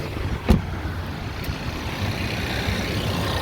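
Under the open hood of a running 2020 Ford Ranger XLT, a pump whirs as a steady engine-bay hum, close and moderately loud, with one brief thump near the start.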